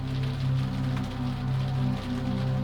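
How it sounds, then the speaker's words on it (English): Steady rain falls around a train, a constant, even patter with a low rumbling hum underneath, moderately quiet and unbroken. "The rain had settled into a steady rhythm now, neither heavy nor light, just constant a curtain of sound that enclosed the train in its own private world"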